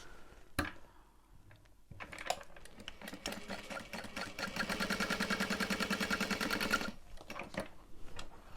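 A sewing machine stitches lines through the seam allowance of a Lauren bag. A quiet start with a few clicks leads to a fast, even run of needle strokes for several seconds, then it stops and briefly restarts.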